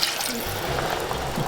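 Water is poured into a pan of browned beef stock, a continuous close splashing and trickling flow that keeps going without pause.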